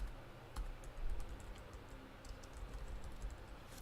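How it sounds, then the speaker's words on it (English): Computer keyboard typing comes in quiet bursts of light clicking keystrokes, faint and close, with short pauses between runs. "Sorry for the bad typing."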